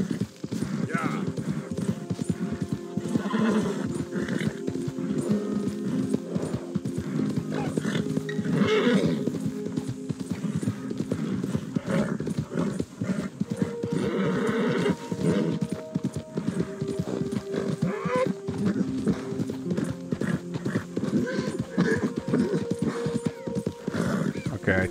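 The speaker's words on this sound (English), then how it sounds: "Okay, the horse is exhausted." Galloping horse hooves from Red Dead Redemption 2 pound in a steady, continuous clip-clop rhythm throughout, with occasional whinnies and someone talking over the hoofbeats.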